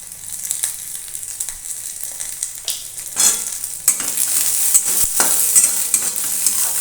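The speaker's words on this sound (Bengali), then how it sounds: "কাঁচা লঙ্কা, শুকনো লঙ্কা, পেঁয়াজ, রসুন ভালো করে ভেজে নেওয়ার পর" Green chillies, dry red chillies, onion and garlic fry in a pan with a steady sizzle, broken by scraping stirs and spatula knocks that grow busier and louder toward the end.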